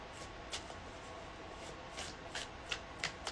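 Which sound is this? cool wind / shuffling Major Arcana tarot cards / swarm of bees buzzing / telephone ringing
shuffling Major Arcana tarot cards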